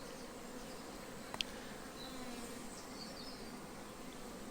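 Honey bees returning to the hive, a faint continuous buzzing hum of insects close by, with one brief sharp click partway through, no voices.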